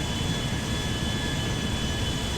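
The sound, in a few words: Airbus A350 mod airplane taxiing in video game GTA 5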